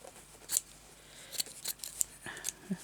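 Scissors snip through feathery craft material in a few faint, sharp, scattered cuts against a quiet room.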